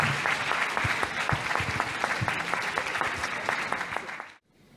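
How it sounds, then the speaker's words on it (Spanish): Applause fills an auditorium at a talk on spiritual medicine, dense, sustained clapping with individual claps standing out, holding steady for several seconds before cutting off abruptly. "les voy a pedir un aplauso"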